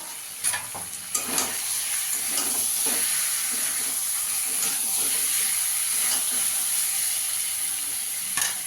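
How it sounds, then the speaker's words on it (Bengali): Egg-pointed gourd (potol) curry is stirred in a hot pan after the lid comes off, a continuous sizzle and steamy hiss with scraping stirs and a couple of clanks near the start. "ঢাকনাটা তুলে একটু নাড়া দিয়ে দেবো।"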